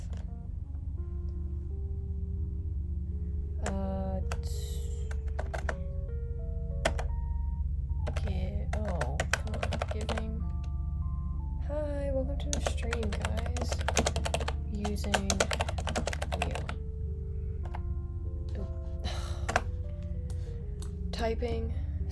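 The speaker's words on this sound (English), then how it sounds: "Typing sucks." Computer keyboard keys clatter in irregular bursts of rapid typing during an Animal Jam live session, over a steady hum with tonal game chimes in the background.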